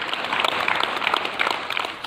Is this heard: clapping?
yes